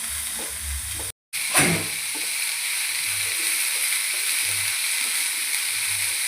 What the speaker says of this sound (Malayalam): ഉള്ളി നല്ലോണം ചുവക്കന വറുത്തിട്ടുണ്ട്